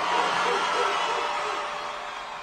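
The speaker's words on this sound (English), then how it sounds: "The cheering you can hear? It's not from Marshall Islanders. It's from the rest of the Pacific." Crowds from across the Pacific cheer and whoop steadily as a broad wash of sound that slowly fades over a couple of seconds.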